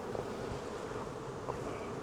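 Honey bees buzzing steadily around an overpopulated hive, a continuous close drone of many wings filling the air without pause.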